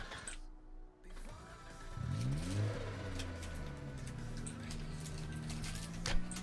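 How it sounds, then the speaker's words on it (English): In the video game Project Zomboid, a car engine cranks and tries to start, rising into a droning, revving whine that runs steadily under quieter background sounds. "Could you hear the sound of the car trying to start after it was already running?"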